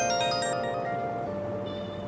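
A phone ringtone chimes in Persona 5 Royal, a bright repeating electronic melody of clear tones that plays steadily for about two seconds with no talk over it.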